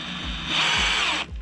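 A power drill runs with its clutch set, not in hammer mode, while working on a Harbor Freight sawmill. It gives a steady high whine that rises briefly in pitch, then cuts off sharply after about a second, loud and close.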